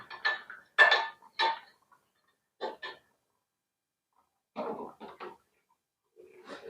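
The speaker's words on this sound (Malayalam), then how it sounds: "നമുക്ക് മൂടി വയ്ക്കാം മൂടി വെച്ച് ഒരു അഞ്ച് മിനിറ്റ് ഒന്ന് വേവിക്കാം" Metal clinks and clatters of a lid being set on a pot of cooking potato theeyal, in several short bursts separated by quiet gaps.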